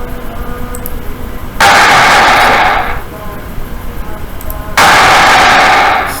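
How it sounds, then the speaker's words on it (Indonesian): Explosions blowing up cars in a Greenfoot computer game, two loud bursts that each decay over about a second, separated by quieter game sound. "Setiap ledakan ada yang coba kena mobil."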